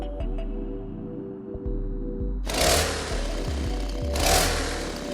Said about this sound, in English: I like that I can click the chainsaw.